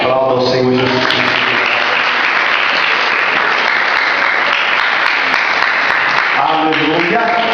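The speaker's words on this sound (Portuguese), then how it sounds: "Aplauda ao Senhor Jesus Cristo" A church congregation applauds loudly and continuously for several seconds, with voices singing or calling over the dense clapping at the start and end.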